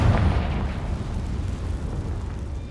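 A Confringo spell bursts in Hogwarts Legacy with a loud, deep, rumbling explosion that starts with a heavy boom and decays into a sustained roar.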